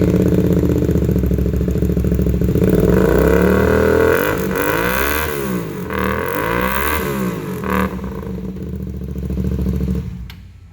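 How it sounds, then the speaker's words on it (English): A 2016 Hyosung GT250R motorcycle fitted with an SC Project exhaust fires up and runs loud and close, its engine note rising and falling through revs before cutting off near the end. "Now let me start this bike up for you so you can hear it."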